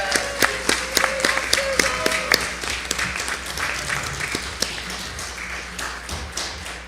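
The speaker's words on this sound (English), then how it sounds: "Can we give her a round of applause?" A church congregation applauds during a Sunday service, starting with a few sharp, distinct claps that quickly grow into a scattered, reverberant round of clapping before tapering off.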